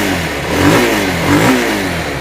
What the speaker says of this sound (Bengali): পিক আপ দিচ্ছি দেখেন,